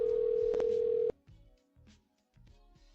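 A loud steady telephone dial tone sounds for about a second, then cuts off, followed by faint clicks and a few quieter blips as a call is placed.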